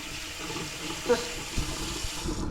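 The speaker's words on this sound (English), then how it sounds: "I'm just washing the spoon." Kitchen tap running while a spoon is washed, a steady close rush of water with a few faint clinks and knocks from the spoon and sink.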